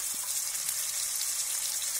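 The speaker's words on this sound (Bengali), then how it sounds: "দিয়ে রসুনটাকে একটু ফ্রাই করে নেব।" Garlic paste fries in hot oil with a steady, close, bright sizzle that hisses evenly throughout, with no voices.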